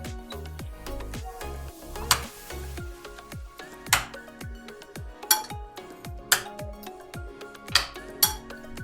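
Chicken pieces being mixed by hand into a marinade in a bowl for pakora, with repeated clinks and scrapes against the dish at a steady rhythm and several sharper knocks, close and alone without talk.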